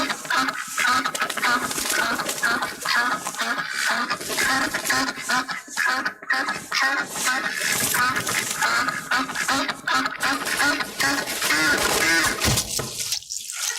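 A recording of ducks quacking plays in a restaurant, with dense, continuous, loud quacks from several birds layered over splashing water.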